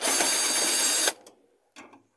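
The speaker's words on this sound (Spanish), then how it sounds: "vamos a utilizar este taladro para quitarlo más rápido" A power drill buzzes loudly for about a second backing out a screw from the agitator of a Maytag washing machine, then stops, followed by a short faint whir.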